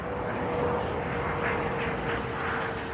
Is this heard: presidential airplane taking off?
yes